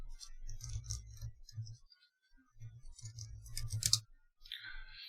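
Windows key and P pressed on a computer keyboard: faint clusters of soft plastic key clicks with short pauses between them, quiet and close.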